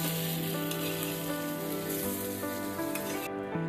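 Steady, crackling sizzle of eggplant frying in hot oil in a wok, continuous and close, with no voices.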